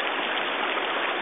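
Water running through a gold prospecting sluice box on Bear River, a steady close rushing hiss with no breaks.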